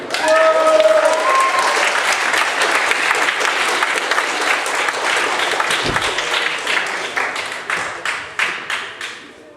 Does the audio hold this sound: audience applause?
yes